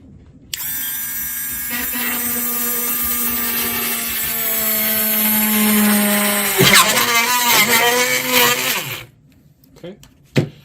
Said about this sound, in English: That's all you need the drill for.